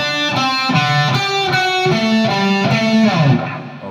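A distorted electric guitar plays a chugging riff with repeated rhythmic chord stabs, loud and steady, ending with a sliding note as it fades.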